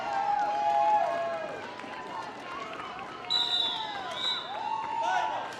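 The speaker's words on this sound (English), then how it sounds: "Let's give a big round of applause." Crowd applause and cheering at a junior roller derby tournament, a steady wash of clapping beneath whistles and voices in a large rink, with a sharp burst of cheering midway.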